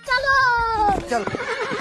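A horse lets out a loud, close neigh with a falling pitch, with a voice joining in toward the end.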